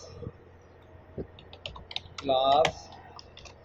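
Scattered keystrokes and clicks from a computer keyboard while Flutter code is typed, with a brief voice partway through.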